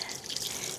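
Water runs from a tap to wash basil, a brief soft hiss of flowing water at close range with no talking.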